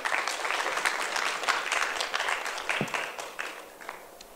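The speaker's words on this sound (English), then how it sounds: "Another round of applause, please," An audience applauds at a novel's book launch, a dense, sustained round of clapping from a room full of people that gradually thins out with scattered claps near the end.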